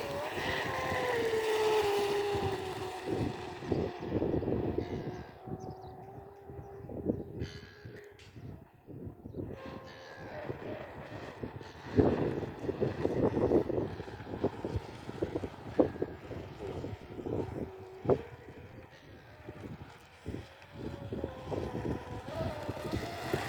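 Pro Boat UL19 RC boat running on choppy water, its small motor whining and shifting in pitch at a distance under heavy wind buffeting, with voices talking at times.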